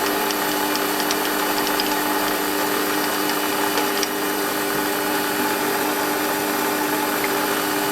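A Warco lathe toolpost grinder cuts stainless steel, producing a steady high whine layered with motor hum and faint crackly grinding contact, continuous and close with no talk.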